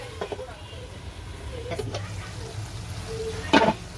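Pieces of chicken sauté in a pan with a soft, steady sizzle, and a spatula or spoon scrapes and stirs now and then, the loudest clatter coming near the end.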